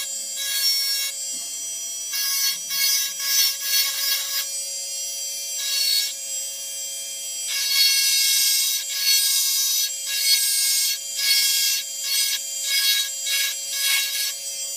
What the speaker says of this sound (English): So I'm going to take my grinder. Now I'm going to take those white marks off.